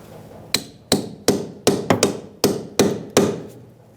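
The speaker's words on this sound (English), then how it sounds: "pushing the strut up as I have a friend of mine here air hammering down" An air hammer works on the rear strut assembly of a 2000-2007 Ford Taurus 3.0L V6, delivering about nine sharp, loud metallic blows at a fairly even pace, with no other sound between them.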